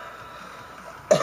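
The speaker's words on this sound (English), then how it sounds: "golly, this cough" A man alone indoors, after a quiet stretch, gives a single abrupt, close cough near the end, short and sharp against faint room noise.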